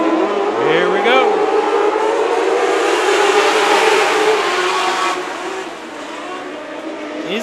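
Small dwarf cars racing at Antioch Speedway, engines buzzing and revving loudly as they pass close by, with a crowd and announcer-like voices mixed underneath.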